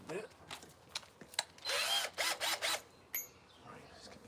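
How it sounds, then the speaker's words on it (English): A power drill fitted with a bit whirs in several short bursts outdoors beside an apple tree, with ratcheting clicks between runs and a person talking nearby. "the first thing we're going to need is my drill and a nice drill bit"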